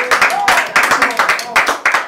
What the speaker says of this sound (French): Il est à la régie, on peut l'applaudir.